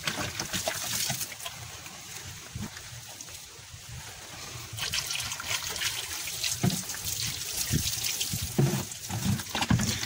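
Water splashes and pours unevenly onto a hot car engine, growing louder midway, with brief hissing bursts and a voice murmuring faintly underneath.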